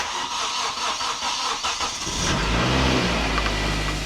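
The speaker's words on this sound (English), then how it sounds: "Let's start the car." A Nissan N15 car cranks with a whirring starter for about two seconds before the engine catches and settles into a loud, close, steady idle.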